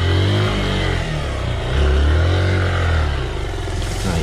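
A motorcycle engine revs on a rough country road, a loud close drone that surges and eases in waves, with no voices.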